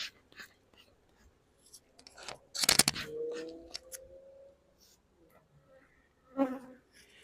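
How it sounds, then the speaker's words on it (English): Intermittent honeybee buzzing drifts close and away around an open hive in a quiet outdoor setting, with a brief loud rustle partway through. "You can see as I'm working here, the bees are going in and out."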